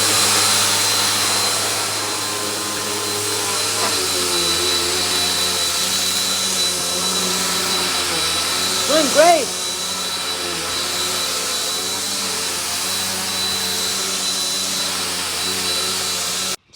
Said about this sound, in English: Now I'm gonna vacuum.